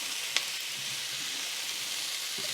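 A ginger, garlic and thyme mixture sizzles softly in a pan while being stirred, a continuous faint frying hiss with a single small click and light scraping, no speech.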